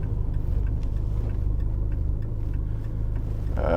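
A Lotus Esprit barn find running at idle with a little throttle to keep it going at a stop, a steady low rumble with faint ticking rattles, then a brief louder burst at the end.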